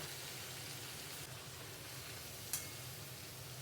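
A paste of ginger, cumin, tomato and green chili fries in a pan with a splash of water, giving a steady, close, hissing sizzle with one brief clink partway through.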